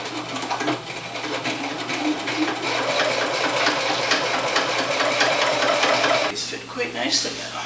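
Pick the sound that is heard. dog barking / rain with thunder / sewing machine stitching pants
sewing machine stitching pants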